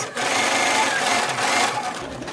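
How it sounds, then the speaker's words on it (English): A sewing machine stitching homemade cloth face masks, its needle whirring in a fast, steady buzz up close for about two seconds before slowing at the end. "after that, we have to sew them."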